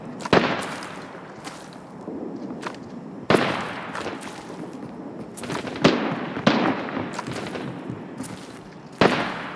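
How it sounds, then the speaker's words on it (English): Grenade blasts and gunfire in the shooter Arena Breakout, a series of sharp, cracking bangs spaced irregularly over a low rumbling background, moderately loud and fairly close. "I just threw a grenade"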